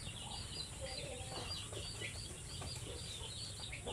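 A Basilan native chicken hen that has gone broody clucks faintly on a farm, with soft chirps and bird calls over a steady outdoor hiss. The calls are scattered and sound somewhat distant.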